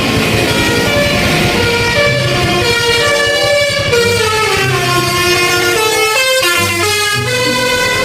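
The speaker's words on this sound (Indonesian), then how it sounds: "Wow, ini ada bis telolet." A toy telolet bus plays its bright, looping multi-tone horn melody, loud and close, the tune cycling through rising and falling notes without pause for several seconds.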